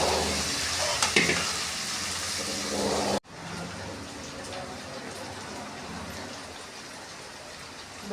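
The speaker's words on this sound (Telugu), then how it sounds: "బెండకాయలు అయితే ఫ్రై అవుతున్నాయి." Okra frying in a pan over a tempering of dried red chilies, mustard seeds, cumin and turmeric, a steady close sizzle with a few stirring clatters early on, then a softer continuous hiss after an abrupt cut.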